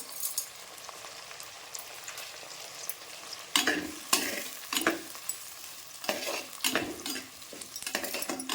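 Vegetables with salt sauté in a pan for garlic kuzhambu, a soft continuous sizzle punctuated by several louder clattering stirs of a spoon against the pan, close by and without talk.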